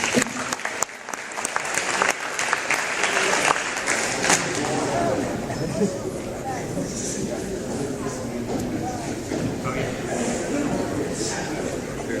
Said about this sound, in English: big round of applause for Brad Karsten